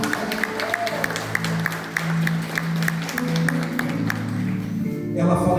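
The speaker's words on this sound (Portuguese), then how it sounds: "Dá uma salva de palmas para ele." A church congregation claps in a steady, rhythmic beat over sustained music and voices, with the clapping fading near the end.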